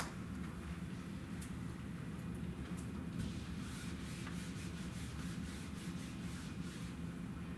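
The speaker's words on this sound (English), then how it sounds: "let me see my eraser here" A rubber eraser scrubbing across paper in steady back-and-forth strokes, a continuous close rasping rub that runs without pause and with no voices.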